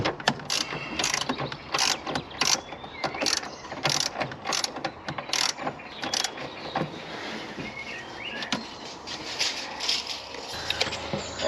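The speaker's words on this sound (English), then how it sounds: "Just keep working at the nut, trying to get it off." A wrench works at a rusted nut during a micro camper build, making bursts of quick metallic ratcheting clicks close by that start and stop in an irregular rhythm.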